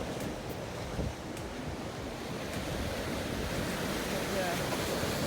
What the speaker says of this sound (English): So I cut off the sound from the beach, but I did want you to hear it.